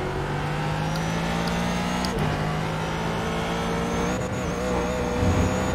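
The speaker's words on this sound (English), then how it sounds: "that car sounds like a dirtbag" A race car on a track drones past with a rough, steady engine note that shifts pitch as it goes by, loud and close, followed by further engine noise from other cars.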